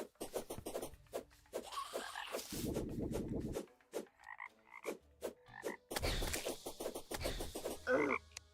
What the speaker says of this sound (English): Oh, we got frogs.